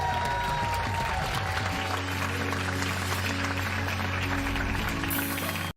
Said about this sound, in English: All right, yes, applaud.